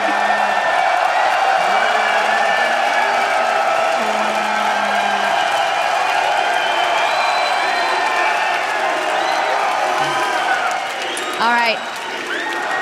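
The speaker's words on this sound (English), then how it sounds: "I don't think they're ever going to stop clapping." A large live audience at a League of Legends esports match between The Alliance and Copenhagen Wolves claps and cheers in a dense, sustained roar, with people talking over the applause throughout.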